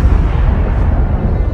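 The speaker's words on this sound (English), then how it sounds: "Imagine standing on Endor and witnessing the Death Star explode." The Death Star exploding, a Star Wars sound effect: a loud, deep, sustained rumbling roar with a steady blast-like texture, heard alone without any speech.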